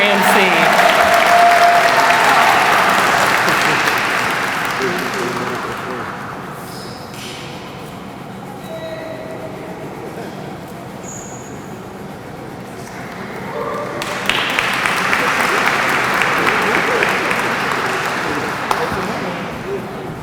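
An audience at an employee recognition ceremony gives a sustained round of applause for the MC, loud at first, easing to a quieter lull in the middle, then swelling again, with a few voices faintly mixed in.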